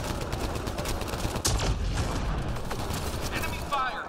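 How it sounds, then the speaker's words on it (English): Enemy gunfire in the Mass Effect Andromeda multiplayer game crackles as dense, overlapping bursts of shots with a sharper crack partway through, set in a busy combat soundscape. "Enemy fire, careful."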